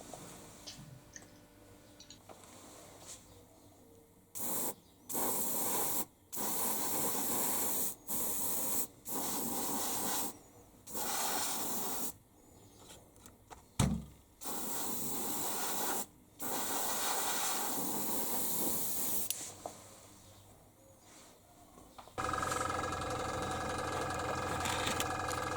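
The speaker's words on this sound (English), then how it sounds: "The wheels were then sprayed with a few coats of frame dirt, whilst always remembering to keep turning the wheels by the use of a battery." Bursts of an airbrush spraying frame dirt paint onto model locomotive wheels, a Fowler Compound, with the wheels kept turning by battery; repeated hissing sprays start and stop irregularly over a steady low motor hum.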